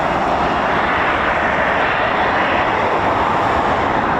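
A Eurofighter Typhoon FGR4 jet starting up at RAF Coningsby, a loud, steady engine roar that holds unbroken throughout, with no voices over it.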